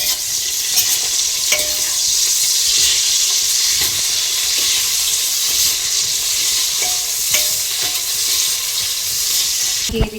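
Green chillies and long-sliced onion fry in oil for a kushka rice dish, giving a steady, loud, close sizzle that runs the whole time, with a few scrapes and clicks of stirring and no talking.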